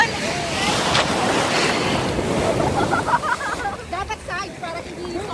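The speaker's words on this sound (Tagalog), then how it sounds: "Ang lakas ng alon." Strong surf breaks on a beach at dawn by the Burj Al Arab in Dubai, a steady wash of crashing ocean waves with wind buffeting the microphone, while people talk and call out over the water.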